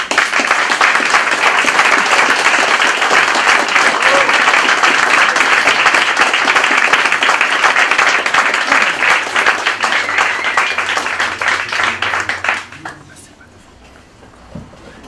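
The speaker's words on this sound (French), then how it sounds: "la salve d'applaudissements que cette salle vous réserve" A large audience applauds in a conference hall in Nice, a loud sustained roll of clapping lasting about twelve seconds before fading into quiet room tone.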